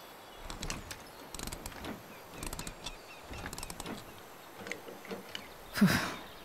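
Wrench ratcheting in the video game Life is Strange: Before the Storm, short clicking bursts repeating in quick irregular clusters, moderately close and fairly quiet, ending with a louder rustling thump.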